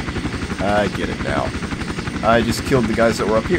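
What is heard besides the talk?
helicopter in the video game Iron Storm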